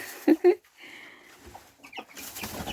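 Young chicks cluck and peep near the recording, with two loud close calls at the start followed by softer scattered chirps and rustling, while a person laughs nearby.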